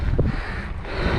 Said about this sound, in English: It gets a little windy out here.